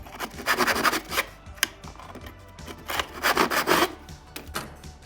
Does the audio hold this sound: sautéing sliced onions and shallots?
no